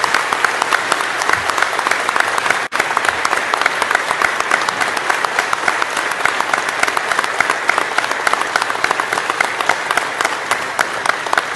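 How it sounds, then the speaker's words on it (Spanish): A large crowd gives a standing ovation, dense sustained clapping filling the whole stretch at high loudness with no break, one brief dip near the start. "un aplauso de pie en honor a ustedes"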